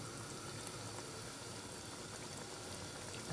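Chickpea (chole) gravy simmering in a pot, a faint, steady low bubbling and sizzle with no talking.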